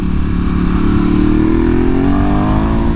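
A 2022 Ducati Hypermotard SP motorcycle engine runs under steady throttle while riding uphill. It holds a loud, close, continuous drone whose pitch rises gradually, with no speech.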